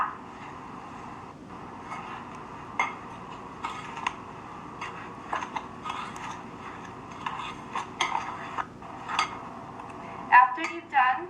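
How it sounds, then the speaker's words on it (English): Crumble topping of flour, baking powder and melted butter being mixed in a bowl for apple crisp, giving soft scraping and clinking of utensil against bowl under quiet talk, with a sharper clatter near the end. "You want to mix all of that together to make the crumble that goes on top."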